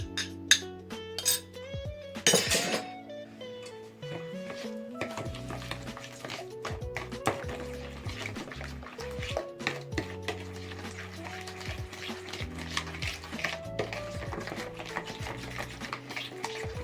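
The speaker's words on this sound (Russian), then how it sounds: "яйца, сахар и просто перемешиваю" A utensil stirs eggs and sugar in a bowl with steady clinks and scraping against the sides, while background music plays throughout at moderate level.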